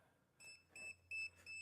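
An RFID door reader gives a short series of four electronic beeps in steady rhythm, each a clear high tone with a faint hum underneath, heard fairly quietly at close range.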